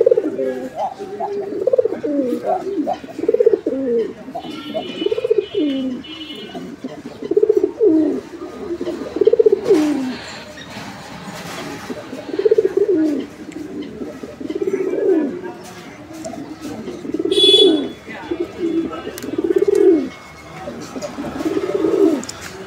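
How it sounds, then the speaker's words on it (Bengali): A pair of Bombay pigeons coo close by in repeated, rolling bursts with short pauses between them, and faint higher chirps and clicks in the background. "আর এই বোম্বাইয়ের যে ডাক, মাশাআল্লাহ একদম ভরপুর ডাকের একটা নর"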